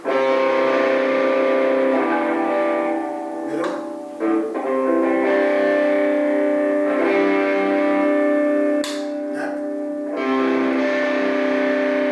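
A heavily distorted electric guitar, a budget semi-hollow played on the bridge pickup, sustains thick, buzzing chords with a few changes and pick scrapes, loud and up front.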